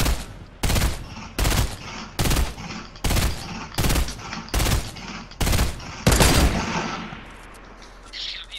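Gunfire and RPG blasts in the Fortnite video game, eight sharp evenly spaced shots roughly every three quarters of a second, loud and close, ending in a bigger blast whose rumble fades out.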